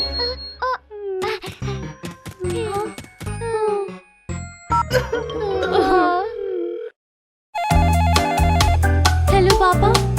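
A telephone rings as a child calls dad in an animated Hindi children's rhyme. After cartoon voices and music and a short silence, a loud, repeating electronic ring tone pulses steadily to the end.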